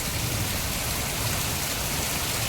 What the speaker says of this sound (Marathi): म्हणजे तुमका समजात की पाऊस किती मोठं पडता असा बघू शकता तुम्ही